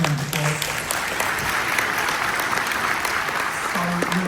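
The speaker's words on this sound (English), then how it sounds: "Quick round of applause." A pharmacy panel audience gives a quick round of applause, a dense continuous clatter of many hands at moderate volume that holds steady throughout.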